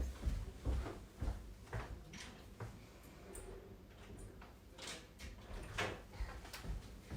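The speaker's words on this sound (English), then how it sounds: "My kid is struggling with the door." A child struggles with a locked bathroom door, making repeated muffled rattles, clunks and handle clicks in irregular bursts, heard from a short distance in a quiet home.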